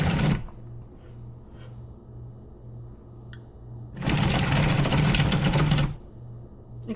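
Thermomix TM7 cooking appliance whirring on turbo, two loud bursts of motor noise, the second lasting about two seconds, over a faint rhythmic pulsing hum.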